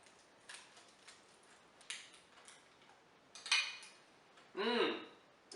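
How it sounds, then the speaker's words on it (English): Homemade pizza is sliced in a kitchen, with a few faint scattered clicks followed by two louder scraping cuts of a blade against a plate or pan near the end. "Let's cut a slice."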